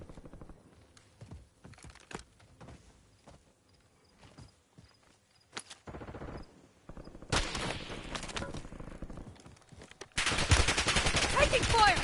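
Video game gunfire in a team shooter match: scattered single shots and short bursts early on, building to dense, loud sustained automatic fire near the end.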